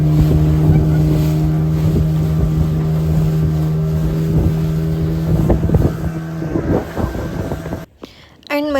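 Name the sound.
boat ride on the sea in Goa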